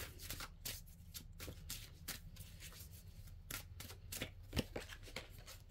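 A deck of tarot cards being shuffled and a card pulled during a pick-a-card reading, with a steady run of quiet, close riffling and flicking card sounds and soft handling noises throughout.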